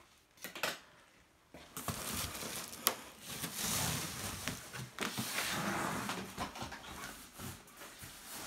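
Polystyrene and bubble wrap packaging being pulled off a folding gaming table, with close rustling, crinkling and scraping bursts that build into a dense, continuous crackle.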